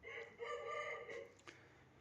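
A rooster crows close by in a single drawn-out call, loud and clear for about a second and a half, with a short rustle near the end and no talking over it.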